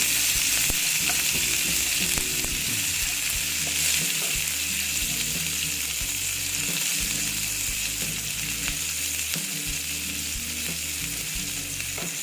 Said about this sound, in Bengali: তারপরে দিচ্ছি হলো পেঁয়াজ কুচি অল্প এটা আমি ভেজে নিচ্ছি